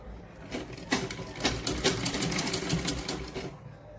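A sewing machine stitches the shoulder seam of a baby frock, a close, rapid run of needle clatter that starts up, holds a fast even rhythm for a few seconds and slows at the end, with no talking.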